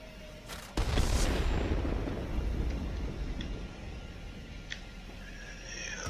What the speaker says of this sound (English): we'll drop this bomb here